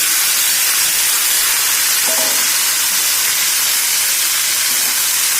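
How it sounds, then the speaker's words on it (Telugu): Grated bottle gourd frying in oil in a pan, giving a steady loud hiss and sizzle throughout with no talking. "మనం బాండీ పెట్టుకుని నూనె వేసుకున్న తర్వాత మనం కడిగి పెట్టుకున్న ఆనపకాయ తురుము"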